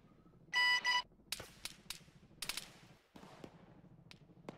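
Enemy gunfire from contacts to the west in a military sim game: sharp cracks and shots, some close and loud, others fainter and farther off, scattered irregularly with a brief radio beep near the start.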